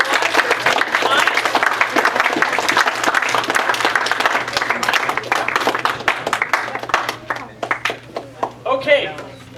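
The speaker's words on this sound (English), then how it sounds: "let's give Brendan a big round of applause for taking time." Loud, sustained audience applause after a guest speaker's talk, dense clapping from a crowd that gradually thins and fades toward the end.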